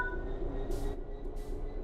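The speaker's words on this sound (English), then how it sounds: "Apply some throttle to get the train moving." A low electric hum with a faint tonal whine, broken by two short bursts of hissing air, as an electric train starts moving in the game Train Sim World 3.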